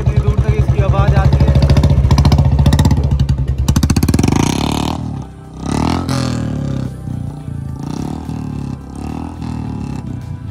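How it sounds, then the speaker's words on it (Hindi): A Royal Enfield Bullet Electra 350 motorcycle engine thumps loudly nearby and is revved hard with rising clatter, then drops back to a rougher, uneven idle. "भाई आपने सुन ली बुलेट की आवाज़।"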